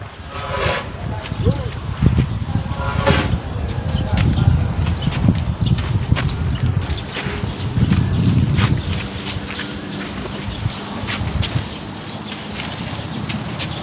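Wind gusts buffet the microphone outdoors on a cool, sunny evening while an elephant walks for exercise, a continuous low rumble with scattered footsteps and a voice talking intermittently.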